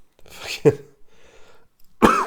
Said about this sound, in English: I can't stop coughing.